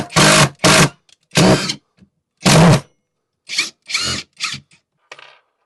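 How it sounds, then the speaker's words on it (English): A Greenworks 24V cordless drill whirs in several short, loud bursts separated by pauses, the motor revving and straining as a screw is driven into a pre-drilled hole. "Now if we were to go into a pre-drilled hole, it's going to go way faster."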